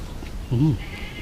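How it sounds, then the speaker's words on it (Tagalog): One short, wavering bleat from a goat, moderately near, over steady outdoor background noise in an abandoned cemetery. "May kambing umiiyak."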